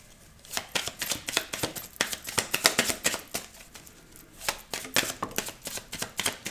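Tarot cards shuffled close up in quick, crisp riffling bursts with short pauses between handfuls, no talking.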